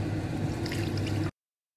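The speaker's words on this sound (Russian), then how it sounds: "Сейчас все это заливаю водой." Water poured from a vessel into a pot of octopus with fried carrot, onion, peppercorns, bay leaf and herbs, a steady close splashing fill that runs for over a second and then cuts off.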